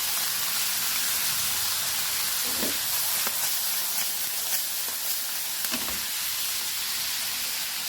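Marinated beef frying in a pan for Filipino beefsteak (bistek Tagalog), giving a steady, moderately loud sizzle and hiss throughout with a few faint clinks, and no talking.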